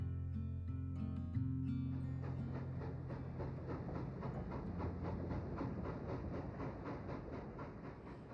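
A moving train rolling along its rails, with steady rhythmic clickety-clack from the wheels over a continuous rumble, loud and close, following a brief stretch of sustained tones at the start.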